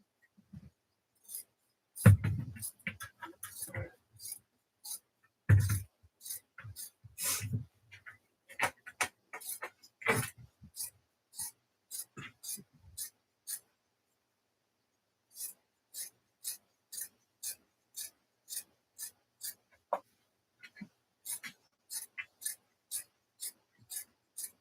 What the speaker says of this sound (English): let's cut this one up right quick